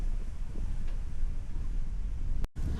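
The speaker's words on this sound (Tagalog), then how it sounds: "Kasi sobrang hangin dito sa labas." Steady wind rushes and rumbles outdoors in Ilocos, Philippines, buffeting the microphone, with a brief dropout near the end and no voices.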